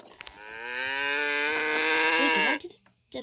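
A See 'n Say toy plays a recorded cow moo, one long loud harmonic low that swells and holds for about two seconds before cutting off abruptly, with soft clicks before and after.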